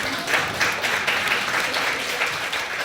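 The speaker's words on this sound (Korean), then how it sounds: "박수 한번 주셔랍니다." A church congregation applauds during a sermon, with dense, steady clapping from many hands filling a large room for a few seconds.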